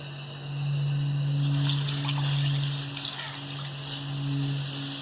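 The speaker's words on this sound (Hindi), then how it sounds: "ये अब हम 1 कप पानी डालेंगे, 1 और डालेंगे।" A cupful of water is poured into a pot of beef for shami kabab, giving a steady, soft trickling splash for several seconds, fairly quiet over a faint background hum.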